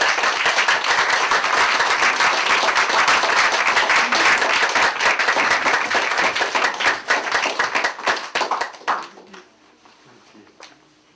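An audience breaks into sustained, dense applause in a welcoming greeting for poet Jennifer Richter at an evening poetry reading, loud and continuous before thinning into scattered claps and fading out.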